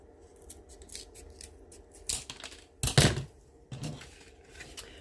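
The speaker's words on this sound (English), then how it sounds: "the first thing you need to do is just cut off with your scissors this rounded edge" Scissors snip through the rounded end of a large wooden lollipop stick, several sharp close cuts with one louder crunching snap in the middle, heard alone in a quiet room.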